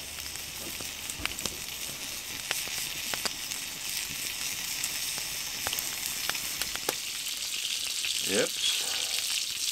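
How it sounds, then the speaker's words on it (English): Steady sizzling and crackling of food frying in a pan, with a voice speaking briefly over it and the clink of a utensil near the end. "you can hear it sizzling"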